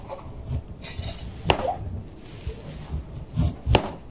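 A bolo knife chops carrots on a board for bopis, giving a few scattered, sharp knocks and clinks with quiet gaps between them.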